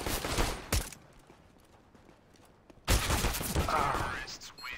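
Gunfire in the video game CS:GO: two brief loud bursts near the start, quiet, then a sustained louder stretch of shots and action sounds filling the last two seconds.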